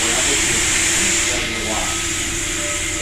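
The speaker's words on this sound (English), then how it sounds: "Oh, the steam going out." Steam hisses steadily and loudly from the Southern 4501 steam locomotive, a broad continuous rush that fills the whole moment, with a slight dip partway through and faint background voices underneath.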